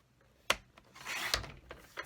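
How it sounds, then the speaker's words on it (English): A paper trimmer slices a strip of decorative patterned craft paper away from its trim: a sharp close swipe, then a longer rasping cut, with a few light clicks around it and no talk. "I cut this off because I wanted that pretty trim to show."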